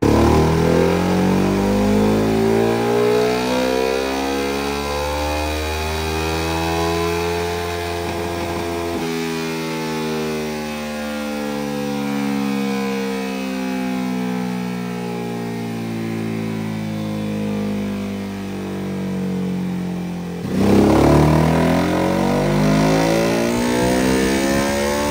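A 2022 Ducati Hypermotard 950 SP with a titanium VanDemon full exhaust system and a flashed ECU is revved continuously up close, the loud twin-cylinder note sweeping up and down through rises and drops, with a sharp blip near the end.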